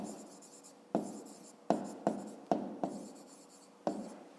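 Pen writing on paper during a fifth-grade maths exercise, about seven short scratchy strokes in an uneven rhythm, close and quiet with no talk over them.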